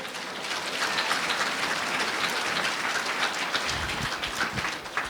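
Applause from a church congregation at a baptism service, a dense, steady wash of many hands clapping that fills the whole stretch, with a low rumble entering near the end.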